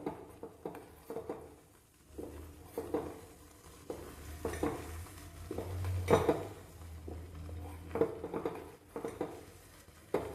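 A pot of foaming homemade hair oil is stirred steadily, with repeated scraping and clinking of a spoon against the metal sides and a low bubbling beneath, close and moderately loud with no talking.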